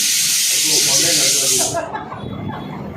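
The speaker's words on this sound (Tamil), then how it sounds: "விசில் அடிச்சுக்கிட்டே இருக்கு" A loud, steady pressure cooker whistle hisses for under two seconds while goat trotter curry cooks, then cuts off, leaving low voices murmuring in the room.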